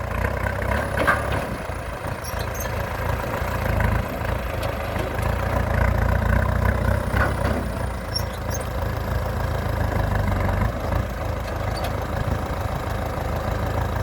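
A four-cylinder engine powers a water pump at a catfish pond on a farm, running as a steady low rumbling idle close by, with faint knocking and no talking.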